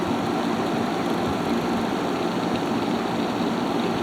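A Haier ESA410J-RGB 10,000 BTU window air conditioner runs with a steady, even fan whoosh and low motor hum, constant and close, with no other sounds.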